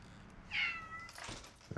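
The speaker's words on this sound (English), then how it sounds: "Meow, meow, kitty." A domestic cat gives a single short, clear meow at close range, followed by faint rustling and soft handling sounds in a quiet room.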